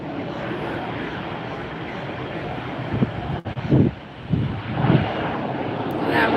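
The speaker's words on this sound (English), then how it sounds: "there goes our next departure" A jet airliner departing Tampa airport, a steady broad engine roar heard from a distance across the airfield, with wind buffeting the microphone in bursts partway through.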